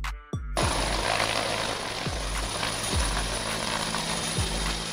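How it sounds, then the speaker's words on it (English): A utility helicopter roars close and loud, a dense steady engine whine with deep rotor thumps pulsing at a regular rhythm about once a second. "Utility Helicopter"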